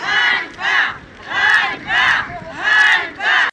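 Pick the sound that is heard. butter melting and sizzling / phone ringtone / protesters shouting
protesters shouting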